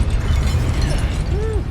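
Confringo fire spell blasting in the game Hogwarts Legacy, a sustained low rumbling explosion filling the short moment, loud and close, with swooshing effects over it.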